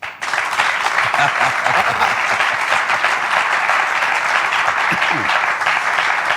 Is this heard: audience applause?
yes